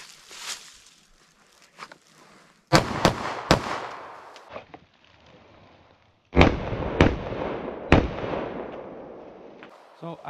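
Sig P365 9mm pistol firing Sig V-Crown ammunition at an outdoor range: sharp, loud individual shots, two pairs spaced apart with ringing decay between them, plus quieter handling noises before the first shot.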